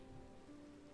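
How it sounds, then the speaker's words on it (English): Soft, steady rain falls in a Minecraft-style game world, a faint continuous patter with a low background hum and no voices. "It's raining."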